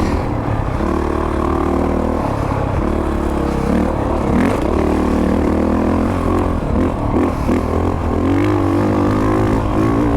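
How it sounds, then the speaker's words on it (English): A motorcycle engine is revved hard during a ride, like a two-stroke, giving a loud continuous drone that rises and falls in pitch, with clattering and wind noise around it. "I'm kind of revving it like a two-stroke."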